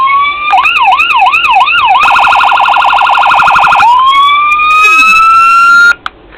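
Loud electronic siren tones from a diecast Memphis Police 2016 Dodge Charger model cycle through a warbling wail, a rapid pulsing yelp, then a rising sweep, before a sudden cutoff.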